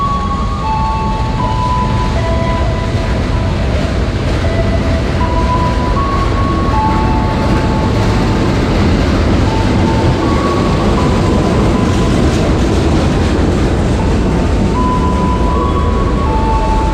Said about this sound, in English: Seven and a half hours on the slow train to Malang.